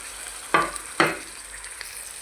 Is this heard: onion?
yes